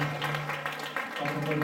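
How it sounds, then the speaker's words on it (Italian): An audience claps after a performance at a talent-show finale, a dense patter of applause running through the short moment with a steady hum beneath it. "Un applauso."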